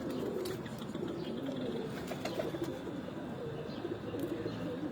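Pigeons coo softly and steadily on a Multan rooftop, layered with faint chirps and general outdoor background noise throughout.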